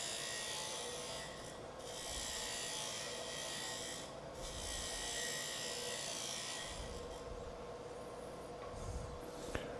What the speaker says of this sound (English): I use my favorite tool, which is the Thompson gouge